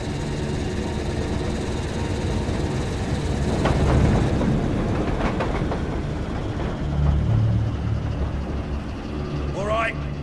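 Train running in the video game Eriksholm: The Stolen Dream, a steady rumbling rattle with faint clatter that swells midway and keeps rolling under people talking.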